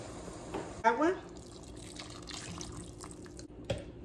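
Water is poured into a pot of chicken in red tomato sauce in a short splashing burst, followed by quieter sloshing. Someone speaks softly around it.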